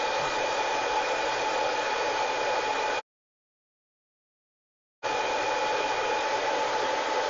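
Cooling fan of a Korad KEL electronic load under heavy power, a steady loud whooshing whir with a faint tonal whine that cuts out completely for about two seconds, then resumes at the same level.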